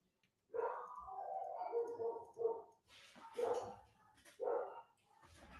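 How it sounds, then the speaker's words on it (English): Dogs on a residential street bark in a series of loud, close, uneven bursts, with short pauses between the volleys and a few whimpery yips mixed in. "God forbid you walk down my street, the dogs go nuts."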